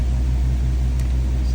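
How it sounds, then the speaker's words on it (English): A steady low engine drone runs continuously, a constant mechanical hum with no pauses or talking. "Sorry about the noise because we lost power a while ago, so we're on generator now."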